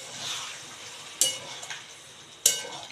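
Chicken masala frying in a pan gives a steady soft sizzle, and two sharp bursts of louder hiss flare up as small splashes of water hit the hot pan. No one speaks.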